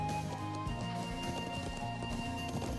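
Steady hooves clip-clop from a horse in the video game Trails of Cold Steel as it leads sheep back to a settlement, under continuous game music.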